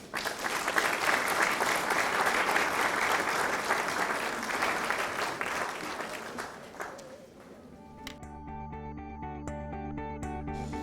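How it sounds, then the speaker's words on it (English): Applause from a graduation ceremony audience fills the hall for about seven seconds, dense and steady, then thins out to scattered claps as a musical tone and a voice come in. "I believe we should give ourselves a round of applause for that"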